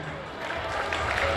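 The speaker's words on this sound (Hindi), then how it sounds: "इन बच्चों के लिए जोरदार तालियां।" Audience clapping at a school annual function as top-ranked students come to the stage, a dense crowd applause building slightly louder, with a voice faintly underneath.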